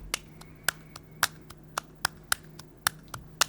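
A dry drum loop of hand claps with no effects plays as sharp, crisp hits at a steady, slightly syncopated rhythm. The claps are fairly quiet and sound alone, with no voices.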